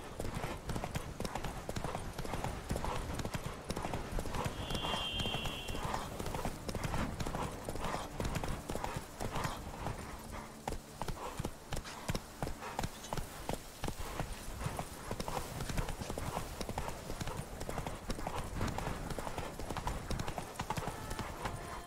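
Roach the horse's hooves clip-clop steadily in The Witcher 3: Blood and Wine, a continuous walking rhythm up close under game music and ambience, with a brief whinny-like tone partway through.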